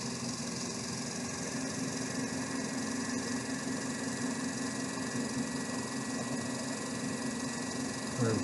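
A series-wound electric motor runs steadily under a dynamometer-style torque load, drawing about 18 amps, giving a continuous moderate hum and whir with faint mechanical vibration throughout.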